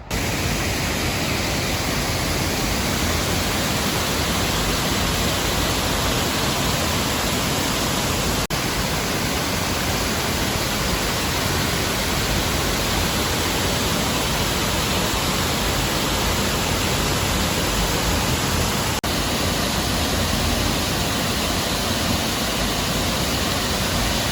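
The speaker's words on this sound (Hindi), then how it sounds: "ये झरना आर्टिफिशियल और बनाया गया है और झरने के पास बोल नहीं पाएंगे तो दिखाता हूँ क्योंकि आवाज़ बहुत ज़्यादा हो रही है।" A loud artificial waterfall in a Baltimore park roars as a dense, unbroken wash of rushing water, close and steady for the whole stretch with no voices.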